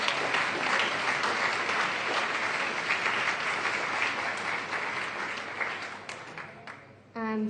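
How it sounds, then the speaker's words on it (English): A student election results night audience claps for all the candidates, a broad sustained round of applause from a crowd that gradually thins and fades before a voice starts speaking at the end. "Can we please get a round of applause for all the candidates?"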